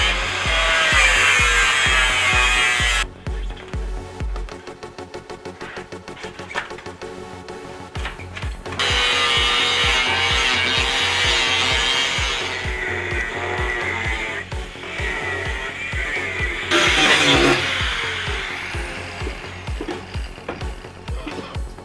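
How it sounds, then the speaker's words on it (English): A power saw cuts into the steel side of a rusted hot water tank, running in loud repeated bursts with pulsing rhythm, brief pauses, and shifting pitch as the blade bites through the metal. "let's see if we can cut a hole in the side of this and check it out"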